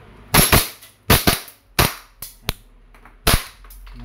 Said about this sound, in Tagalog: So, gusto nyo double tap, talpak. Yan, semi-automatic firing.